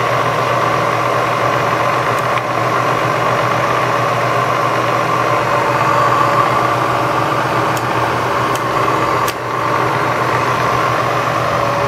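A Bridgeport 9 x 48 inch milling machine runs its automatic power downfeed, a steady mechanical hum with motor drone held constant throughout, joined by a few faint clicks, with no talking.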